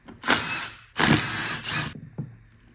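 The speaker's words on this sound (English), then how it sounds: "Now we'll remove all these bolts to get the valve body off." Ratchet wrench loosening bolts from the valve body of a 200,000-mile automatic transmission, two quick bursts of rapid clicking with a short pause between, then a faint metallic tap, close and clear.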